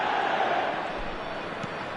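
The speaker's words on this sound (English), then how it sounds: "there's a real sense that the momentum has shifted here, Peter, and the crowd are reacting to that now" A stadium crowd in a PS4 football video game roars and murmurs as momentum shifts, a dense, sustained wash of cheering at steady loudness with a commentator's voice faintly woven in.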